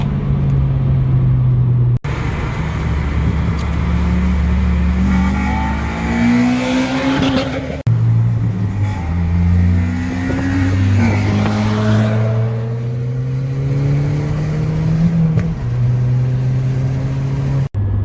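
A Honda Civic EP3 Type R engine revs hard into VTEC. The pitch climbs in several long pulls that are loud and close, with brief breaks between the surges.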